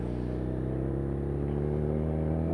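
A motorcycle fitted with a Dynojet Power Commander Autotune module idles steadily, a close, even low engine hum with a constant, smooth tone and no revving.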